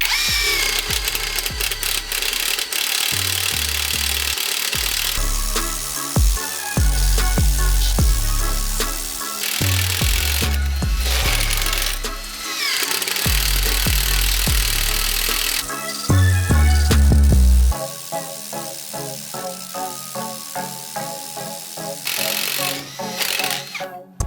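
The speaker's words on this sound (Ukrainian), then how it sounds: "давайте також попробуємо, як працює імпакт гайковерт з пировими сверлами" Revolt TW 20/350 or TW 20/580 cordless impact wrench driving drill bits into wood: repeated loud bursts of whirring and hammering impacts, broken by short pauses, with someone talking between and over them.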